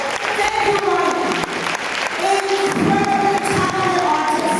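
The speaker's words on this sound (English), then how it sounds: "give Ryan a big round of applause" Loud, continuous applause from a large audience cheering on a guest invited to stand, with dense clapping and some raised voices running steadily throughout.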